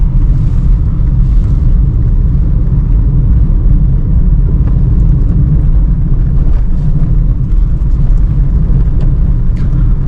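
A car rolls along a potholed road during a driving lesson, moving in fourth gear, giving a constant loud low rumble of engine and tyre noise from inside the cabin, without speech.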